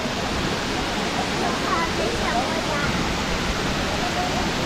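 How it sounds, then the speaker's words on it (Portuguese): A waterfall at a crowded bathing spot in eastern Brazil roars as a dense, constant wash of falling water, loud and close throughout. "uma visão mais perto aqui da cachoeira"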